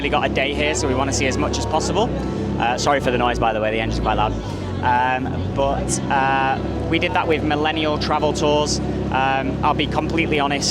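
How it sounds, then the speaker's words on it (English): A loud boat engine drones steadily beneath continuous close-up talk aboard a tour boat in Coron, Philippines, with the motor noise filling the low end throughout. "Sorry for the noise, by the way, the engine's quite loud."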